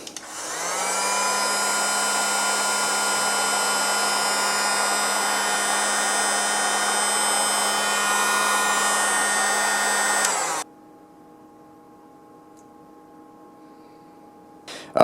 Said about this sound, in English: Heat gun or a lighter, whatever you need to do.